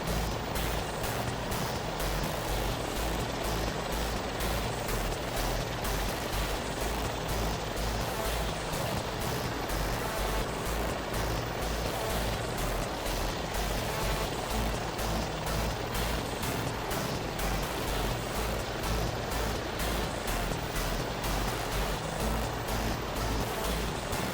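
A helicopter in the FlightGear flight simulator game flies over Corsica, giving a steady, even rotor and engine drone that holds at the same level throughout with no talk.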